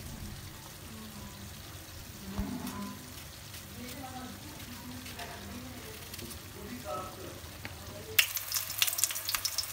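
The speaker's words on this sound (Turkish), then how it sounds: "Dilimlemiş olduğum patlıcanları önceden kızdırmış olduğum yağın içerisine atıp kızartacağım." Thin eggplant slices hit hot oil and fry with a soft, steady sizzle, with faint kitchen clatter; a louder hiss bursts up near the end.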